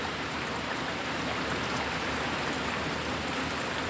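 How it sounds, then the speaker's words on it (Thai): Steady rain falling on a surface, a dense, even patter throughout with no voices. "ฝนตกมาก็ตากฝนกันนะคะ"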